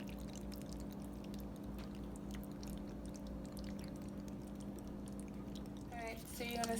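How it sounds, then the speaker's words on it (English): Cheese sauce is poured over cooked macaroni in a home kitchen. The thick liquid makes a soft, faint pouring and gurgling sound that grows a little louder near the end. "You're going to pour it all over your macaroni."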